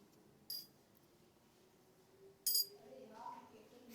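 Small fractional weights for a chemistry class balance clink onto a metal pan, two sharp bright metallic taps about two seconds apart, close and clear over a quiet background with a faint hum.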